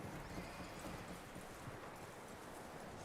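Steady clip-clop of horse hooves over a dense noisy background, with a brief whinny; no talking. Sound from the video game Red Dead Redemption 2.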